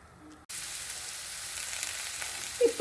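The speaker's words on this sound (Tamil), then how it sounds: "விட்டுட்டு கட் பண்ண வெஜிடபிள்லாம் போட்டு ஒரு 4 to 5 மினிட்ஸ்க்கு சாட்டே பண்ணி எடுத்துக்கலாம்" Chopped vegetables for a paneer and cheese burger sauté in olive oil in a kadai, giving a steady loud sizzle after a quiet start, with a few brief clinks near the end.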